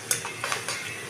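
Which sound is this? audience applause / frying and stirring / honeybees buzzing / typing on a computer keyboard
frying and stirring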